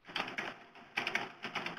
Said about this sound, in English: I can hear his keyboard.